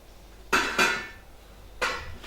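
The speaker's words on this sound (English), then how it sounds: "Lid back on and allow to simmer for about 15 minutes." A metal lid set back onto a pot of simmering beef kofta curry gives three sharp clanks, two in quick succession and a third after a pause, each ringing briefly, close and fairly loud with no voices.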